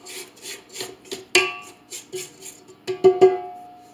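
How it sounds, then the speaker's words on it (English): A spatula scraping the sides of a bowl of creamed butter and sugar for cookie dough, a series of close, rhythmic rasping strokes with a few sharper knocks against the bowl near the end. "So now I'm just going to scrape down my sides."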